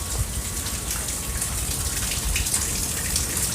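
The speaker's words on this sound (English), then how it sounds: "waterfall" Steady, dense rushing of water from a waterfall feature at West Kowloon high-speed rail station in Hong Kong, a continuous broadband wash that fills the whole stretch at even loudness with no voices.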